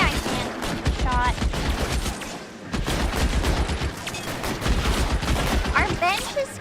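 Gunfire in L.A. Noire rings out as a rapid string of sharp shots, loud and close, broken by a brief pause midway, with someone talking over and between the bursts.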